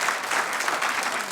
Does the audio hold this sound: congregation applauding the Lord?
yes